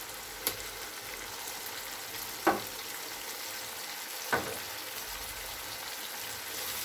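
Ginger garlic paste fries quietly in a pan for a beef kofta curry, a low steady sizzle broken by two or three brief clinks of a spoon.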